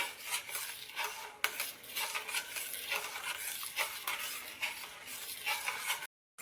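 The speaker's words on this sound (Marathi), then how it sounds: "आणि अजून 2 मिनिट याला आपण छान हलवून घेऊया." Rice kheer being stirred in a metal pot, a steady run of spoon scrapes and soft clinks against the pot with faint bubbling, close and alone.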